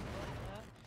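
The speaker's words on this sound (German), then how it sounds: "Okay, ich habe einen Knaller reingehauen." A firecracker goes off in the video game Dead by Daylight as a brief, dense burst of crackling pops that fades quickly, with a voice faintly underneath.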